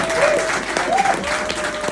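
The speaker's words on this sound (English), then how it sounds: "Everybody, please give up applause!" An audience applauds after a farewell talk, a dense, steady wash of clapping with a few cheers and whistles running through it.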